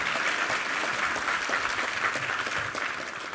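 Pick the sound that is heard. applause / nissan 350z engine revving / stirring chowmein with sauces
applause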